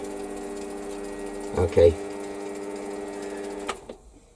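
A lathe runs with a steady motor hum while a very small centre drill countersink bores into a part for a Stuart Models S50 engine, with a brief louder bump in the middle and the hum cutting out near the end, a voice speaking briefly.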